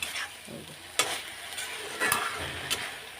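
Bet shak greens stir-fried in a pan, with a steady sizzle broken by sharp scrapes and clatters of a spatula against the pan, close and alone without talk.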